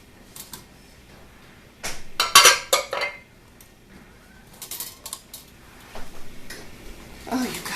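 Homemade loaves of freshly ground wheat and spelt bread being knocked and tipped out of buttered metal baking pans, giving a few clustered clanks and rattles of pans, close and moderately loud, with brief talk around them.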